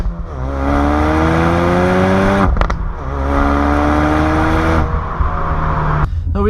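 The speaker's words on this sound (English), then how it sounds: "when you do put it in sport mode, you get some pops and cracks" A 2016 Ford Focus RS in sport mode revs hard through rising gear pulls, its loud engine note broken by sharp exhaust crackles and pops at each lift-off and shift, close and continuous.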